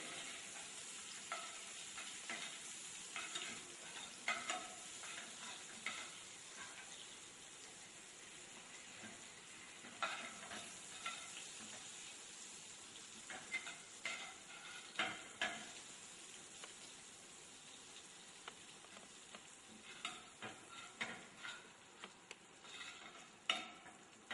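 Butter is stirred with caramelized sugar in a pan, a soft continuous sizzle broken by repeated scraping strokes of a utensil, quiet and close with no talking.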